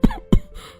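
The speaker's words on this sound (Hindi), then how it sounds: "खांसते हुए उठने की कोशिश करते हैं।" Two sharp, close coughs from a man in quick succession, followed by a rough, breathy exhale.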